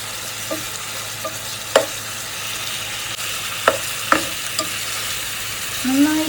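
Onions stirring and frying in a pan for a homemade chicken curry, with a steady low sizzle and a few scattered scraping clinks of the spoon against the pan, close up and without talk.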